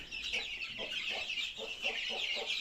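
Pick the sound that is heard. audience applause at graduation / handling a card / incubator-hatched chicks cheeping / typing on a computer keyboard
incubator-hatched chicks cheeping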